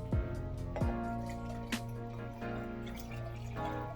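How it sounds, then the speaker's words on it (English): Water poured into a cup at home while kids make DIY lava lamps, heard as a close trickling, dripping pour with a few sharp drip plinks, no talking over it. "And then just pour the water into your cup."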